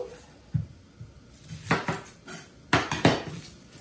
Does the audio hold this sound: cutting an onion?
yes